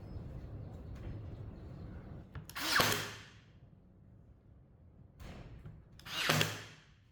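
Power drill boring a pilot hole in wood for a DIY speaker cabinet, two short bursts of drilling around three and six seconds, fairly close, with quiet pauses between.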